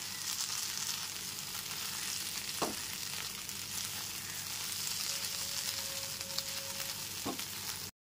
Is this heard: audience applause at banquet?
no